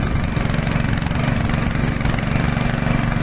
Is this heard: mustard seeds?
no